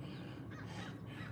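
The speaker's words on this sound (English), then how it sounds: "Y'all hear the birds?" A crow caws outdoors among other birds, giving a few rough calls at a moderate distance over a steady background hiss, with no voices.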